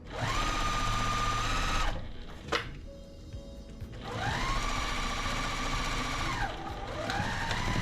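A sewing machine stitching a quilt piece down in a regular stitch, running in two steady whirring bursts with a short pause and a click between them, close and fairly quiet.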